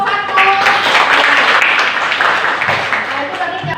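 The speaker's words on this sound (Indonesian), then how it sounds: "Tepuk tangan untuk kelompok 1." Classroom applause for a student group, steady clapping from a small crowd throughout, close and fairly loud with voices mixed in.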